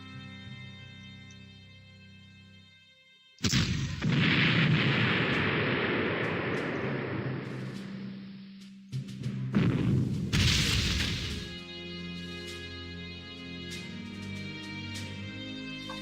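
Artillery fire in the Panzer Corps war strategy game lands as two heavy booming blasts, each a loud rumbling burst that slowly decays, separated by a few seconds of quieter game ambience.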